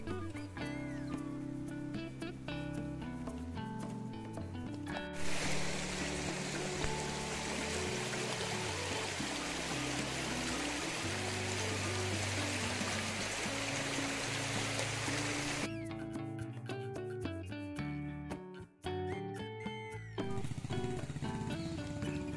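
Fast-flowing stream of water rushing through the jungle at Jim Corbett, a dense, steady hiss of running water that swells loud in the middle stretch, with other sounds and quieter passages around it.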